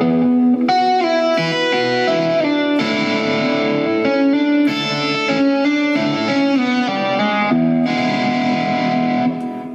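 An electric guitar with effects and distortion plays a riff slowly, a run of distinct picked notes and arpeggiated chords, close and loud with no talk.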